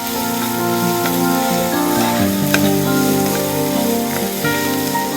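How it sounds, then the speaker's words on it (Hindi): 120 grams of chopped onions fry in a pan for vegetable jalfrezi, a dense, steady sizzle with faint stirring scrapes, close and continuous with no talk. "अच्छी तरह प्याज फ्राई कर ले।"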